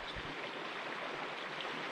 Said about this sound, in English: second fastest flowing river in Cyprus, the Darios